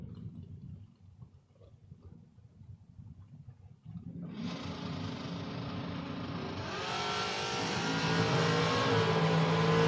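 Drag race at the 6th Annual Spring King of the Creek: after a quiet, rumbling start, a truck and a Malibu launch with a sudden loud engine roar that swells and holds as they accelerate away.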